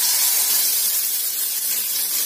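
Curd poured into a hot pan for an Odia curd brinjal dish hits with a loud, steady steaming hiss and sizzle, close and continuous without pause.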